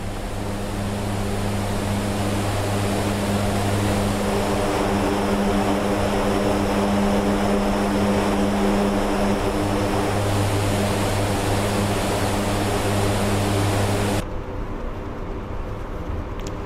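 A simulated aircraft cruising in a flight simulator game over the Kola region, with a steady loud propeller and engine drone carrying a strong low hum for about fourteen seconds before the sound abruptly drops to a duller, quieter tone.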